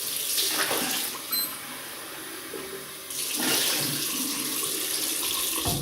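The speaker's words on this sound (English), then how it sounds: "So I'll just rinse off with warm water." A tap runs warm water for rinsing after a shave with a Gillette Slim adjustable razor, a loud steady hiss that briefly drops and then surges again, close by.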